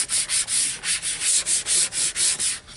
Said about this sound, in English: you just continue to squeegee it until it's smooth enough for you